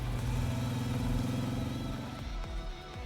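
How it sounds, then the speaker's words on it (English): A motorcycle engine in the game Nikke rumbles loudly at close range, revving with a throaty, uneven chug before pulling away, with no voices. "Sugar revs the engine and zooms off on her bike towards the factory."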